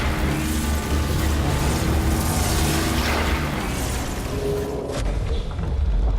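A cube exploding, played back as a loud, dense roar of blast noise that fills the whole stretch and briefly thins near the end; no speech.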